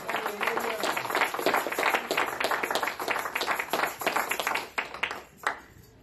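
A church congregation claps in a brisk, uneven burst of applause that rises and falls for several seconds before thinning out, with some voices mixed in.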